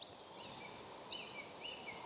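Birds singing in woodland, a few high thin whistled notes and then a rapid repeated trill, fairly faint against a quiet outdoor background.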